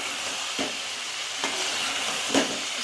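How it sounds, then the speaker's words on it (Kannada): Sprouted chickpeas are stirred in a pan on the stove, with a steady sizzle broken by a few soft scraping strokes of the spoon. "ಎಲ್ಲ ಕಾಳು ಹಾಕಾಗಿದೆ. ಚೆನ್ನಾಗಿ ಈ ರೀತಿ ಮಿಕ್ಸ್ ಮಾಡ್ಕೊಂಬಿಡಿ."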